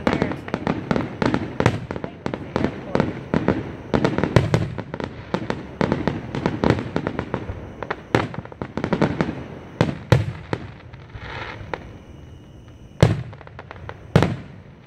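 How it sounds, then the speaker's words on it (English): Fourth of July fireworks in Gentry, Arkansas pop and crackle in a dense, rapid finale volley, with sharp bursts fading to scattered louder booms near the end; a voice is faintly heard. "fireworks going on way over there"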